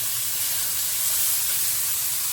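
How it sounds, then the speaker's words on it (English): Bacon or pancetta frying in its own rendered fat in a pan, a steady close sizzling hiss with no pauses and no voices. "Now what I'm doing here is just frying this off in its own fat"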